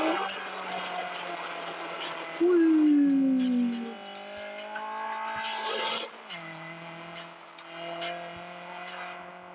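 A car drifting in a racing video game, a sharp tire squeal rising and fading amid synthetic engine drone, with brief engine revs and a few thuds.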